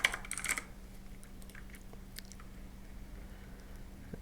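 Quiet typing on a computer keyboard, a short burst of soft clicking keystrokes near the start followed by a few scattered taps over low hum.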